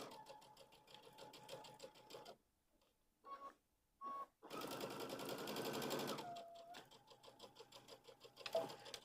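A home sewing machine stitches fabric in quick rhythmic runs, starting and stopping with short quiet gaps, then a longer louder burst, all close and clear with no talk.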